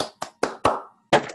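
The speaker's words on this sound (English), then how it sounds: "we gotta put applause in there" A few sharp claps in a short, uneven burst, close and dry, with gaps of silence between them.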